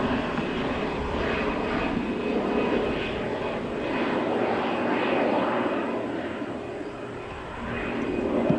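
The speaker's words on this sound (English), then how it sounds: "low-flying aeroplane, so if you wonder what that noise is, it's delivering guests" A low-flying light aeroplane passes over a safari drive, a steady droning engine roar that holds for the whole stretch and swells slightly as it goes overhead.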